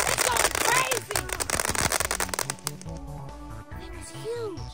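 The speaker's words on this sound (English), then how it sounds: "Wow, that was a nice firework." Consumer fireworks crackle and pop in rapid bursts of sharp bangs, loud and close, with whistling streaks and voices talking and exclaiming over them.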